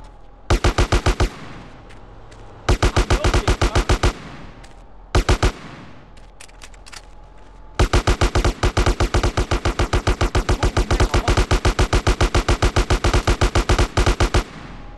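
Video game gunfire in GTA San Andreas: rapid automatic bursts, several short volleys followed by a long sustained stream of shots, loud and close with no talk.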